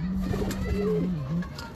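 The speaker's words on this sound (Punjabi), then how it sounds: "ਇਹ ਵੱਡੀ ਕਬੂਤਰੀ ਹੈ ਜੀ" A large female breeder pigeon gives a soft, low coo up close. It is a single drawn-out call that rises and falls before fading.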